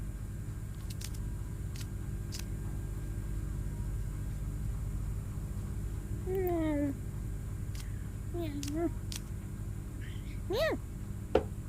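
A cat meows three times in the video game I Am Cat, each call short and rising and falling, over a steady low background hum.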